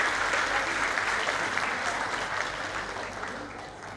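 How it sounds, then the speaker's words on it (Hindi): Seminar audience in a hall applauding together, a steady dense patter of many hands that holds evenly for the whole stretch and fades slightly toward the end. "सब अपने लिए एक बार ताली बजाएं"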